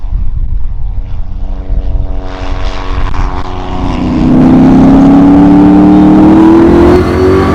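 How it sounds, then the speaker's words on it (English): A propeller airplane's engine grows louder as it approaches and passes overhead, its droning pitch rising to a loud, steady roar. "Plane coming in."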